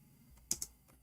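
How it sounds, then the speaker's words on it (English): A few quick keystrokes sound on a computer keyboard, close and quiet, with two sharp clicks close together and a couple of softer taps around them. "I'm typing in English again."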